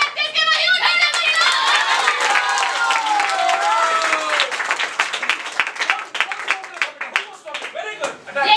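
Audience applause and clapping at a celebration event, loud and sustained across the whole stretch, with individual claps growing more distinct toward the end while voices call out and cheer over it.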